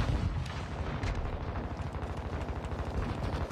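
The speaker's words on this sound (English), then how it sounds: "Stun grenade out!" A stun grenade going off in a video game fills the clip with a dense, rumbling crackle of rapid bursts, loud and continuous, with no talk over it.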